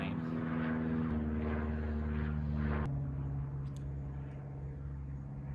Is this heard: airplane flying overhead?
yes